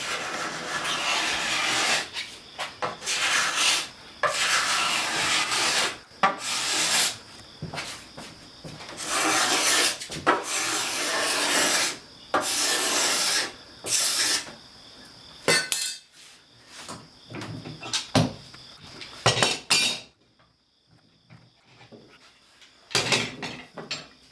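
A hand scraper works along a wooden chair arm rail in bursts of close, rasping strokes separated by short pauses, with quieter handling sounds near the end.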